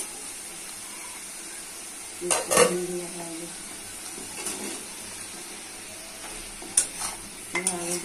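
Potatoes and fish roe cakes stir-fried with spices in a pan, heard as a few bursts of close spatula scraping and clattering over a quiet, low sizzle, with no talking.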